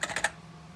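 Keys being pressed on a Commodore C64 computer keyboard, three quick close-up clacks in a short burst, then quiet.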